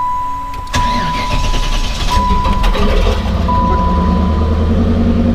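A 1993 Chevy Z28 engine turns over and catches, then settles into a steady, loud low rumble at close range after a brief clatter at the start.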